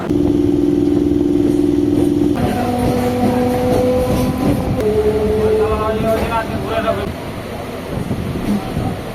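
A passenger train pulls out of Medinipur station with a loud, continuous rumble and rising motor whine that shifts pitch in steps as it gathers speed. Faint clatter and background voices sit under the noise.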